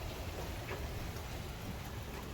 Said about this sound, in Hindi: बाहर देखें कितनी बारिश हो रही है।